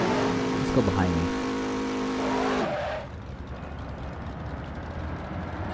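Cars in the Midnight Club 3 DUB Edition Remix racing game, engine tones sweeping past loud and close for a few seconds before dropping abruptly to a low, noisy rumble; a person talks over part of it.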